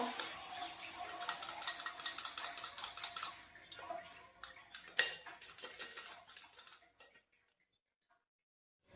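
Water draining from cooked chana dal through a kitchen sieve, heard as a soft, continuous patter and trickle with light metallic clinks; it thins out and stops about seven seconds in, leaving near silence.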